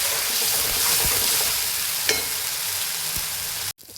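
Thick tomato masala for tomato dal cooks down in a pan on the stove, giving a steady, close sizzle and bubbling with a few soft stirring clicks, and it cuts off abruptly near the end.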